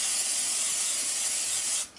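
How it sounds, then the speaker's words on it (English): Pam cooking spray hisses steadily from an aerosol can into a small pan for an air fryer, one continuous close spray lasting nearly two seconds before cutting off abruptly. "And I'm going to spray some Pam in here"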